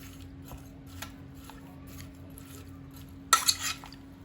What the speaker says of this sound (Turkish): Şekerin her yere ulaşması için eriklerimi karıştırıyorum.